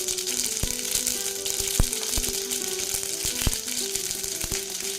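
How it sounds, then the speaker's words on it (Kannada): Mustard seeds sizzle and pop in hot oil, a dense continuous fry hiss close up with sharp sporadic crackles and seed pops, no voice. "ನೋಡಿ, ಎಣ್ಣೆ ಕಾದಿದೆ. ಈಗ ಸಾಸಿವೆ ಹಾಕ್ತಾ ಇದ್ದೀನಿ."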